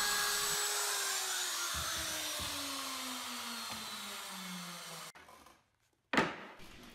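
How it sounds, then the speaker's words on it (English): A router with a 3/8 inch radius roundover bit whines loudly and steadily while rounding over wood corners, its pitch sliding slowly downward; after about five seconds it cuts off, briefly goes quiet, then a short sharp burst of noise follows. "I'm going to put a 3/8 inch radius roundover bit on my router to knock off all the corners"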